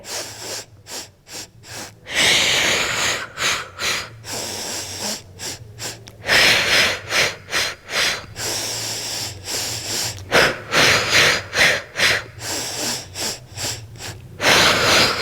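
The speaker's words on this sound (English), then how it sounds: "Inhale 2, 3, 4, 5. Exhale 2, 3, 4, 5." Rhythmic yoga breathing during a core session that mixes yoga and Pilates: loud, close, hissing inhales and exhales of a few seconds each, alternating steadily in a counted pace.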